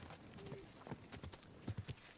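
Horse hooves clip-clop in Kingdom Come Deliverance 2, a quick run of distinct hoof strikes growing louder toward the end, with a faint whinny and no talk.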